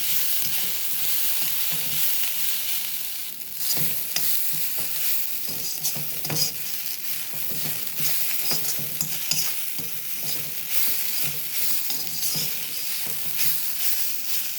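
Onion and grated coconut sizzle and fry in a pan while a spoon stirs with repeated scraping strokes, close and steady throughout.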